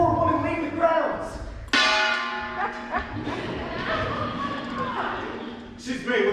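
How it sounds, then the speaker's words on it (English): A gong is struck once, its bright, shimmering ring swelling and slowly fading beneath overlapping voices talking. "Mrs. Simmons, sound the gong, Wilson."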